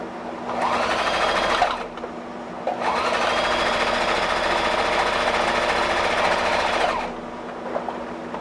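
A sewing machine set to its widest zigzag stitch runs in two steady bursts, a short one and a longer one, close and loud, with a brief pause between them.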